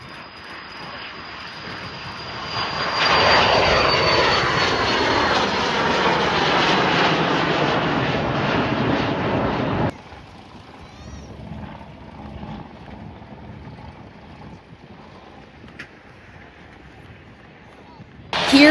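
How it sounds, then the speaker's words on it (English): A Royal Flying Doctor Service Pilatus PC-24 business jet takes off at Jandakot Airport, its engine roar swelling loudly and holding steady for several seconds before cutting to quieter distant rumble and ambient airfield noise. "Enjoy this raw footage of this RFDS PC-24 taking off."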